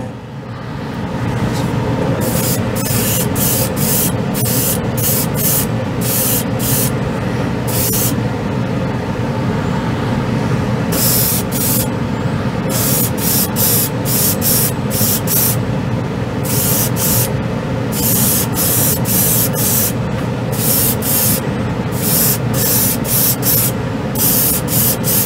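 An airbrush sprays Tamiya XF2 flat white enamel model paint, giving a loud, close, steady hiss broken into a long series of short, sharp trigger bursts of varying length.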